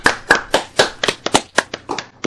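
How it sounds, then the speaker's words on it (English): Several online meeting participants clap unevenly through their own microphones, a scatter of sharp, close hand claps at irregular intervals, loud and unsynchronised, with no talking. "Everybody unmute and a bit of applause for Matt."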